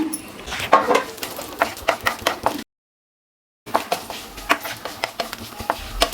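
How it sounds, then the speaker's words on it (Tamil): Mustard seeds and vadagam tossed into hot tempering oil for a mutton masala crackle and sizzle, with sharp popping bursts over a steady frying hiss, briefly cut off before resuming. "கடைசியாக வந்து தாளிப்பு போட்டுக்கலாம் இப்போ வந்து கொஞ்சமாக கடுகு வடகம் கொஞ்சம் போட்டுக்கிறேன்"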